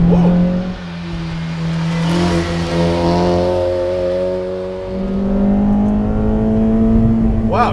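A 2014 Honda Civic Si with a naturally aspirated engine making 260 wheel horsepower revs hard and loud, its pitch climbing through a long pull, easing briefly before climbing again.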